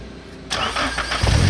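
The starter cranks a flood-damaged Nissan Silvia (S15-faced Sileighty) engine for under a second before it catches and fires into a rough, rumbling run, loud and close.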